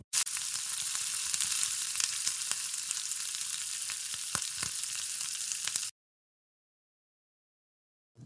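Smoky spicy chicken noodles with charcoal-smoked pasta stir-fry on high heat in a loud, continuous sizzle marked by occasional clacks of a stirring utensil, then cut off abruptly into silence.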